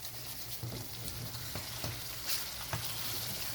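Cumin and spices fry in a pan for Afghani chicken handi, with a steady hot sizzle and occasional stirring scrapes and pops, fairly quiet and close, with no voices.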